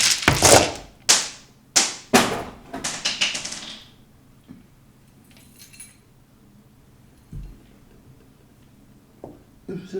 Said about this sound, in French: Je prends quelques dés.